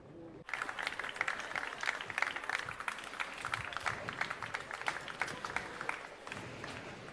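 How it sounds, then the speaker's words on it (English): An audience at a political rally for European democrats breaks into sustained applause after a speaker is introduced, dense clapping starting abruptly and continuing steadily at close range. "A round of applause for his speech."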